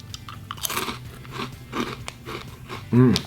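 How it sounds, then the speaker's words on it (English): Crunchy puffed cheese snacks like Cheetos being chewed up close, with several crisp crunches and biting sounds spread across the clip and a louder burst near the end. "Last but not least, basically crunchy Cheetos."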